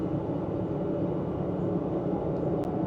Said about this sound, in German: Da wir nur unglaubliche 70 km/h fahren, ist der Zug ganz, ganz leise.